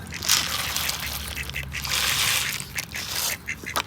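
Ducks quack close by in a busy, overlapping chorus as they are fed duck pellets, with rustling and crunching sounds mixed in.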